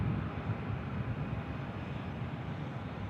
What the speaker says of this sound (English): That, ladies and gentlemen, is Delta Airlines Flight 2274 from Minneapolis, 757-300 series aircraft.